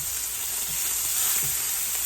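Brief, continuous hissing sizzle of chicken frying in a pan for home hibachi, close and fairly loud, with no voices.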